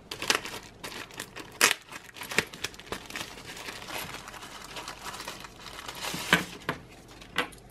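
A small plastic packet crinkles and rustles while a Tronsmart Bang SE Bluetooth speaker is being unboxed, with quiet, irregular handling and a few sharper crackles. Nobody talks.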